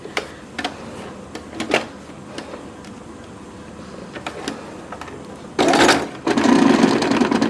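Sewing machine stitching a foldable grocery bag, a few light clicks and taps at first, then a close, loud run of motor whirring near the end that stops briefly and starts again.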